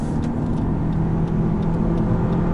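A 2019 Lexus UX car driving onto a highway, with a steady, loud low engine and road rumble held evenly throughout and no talking.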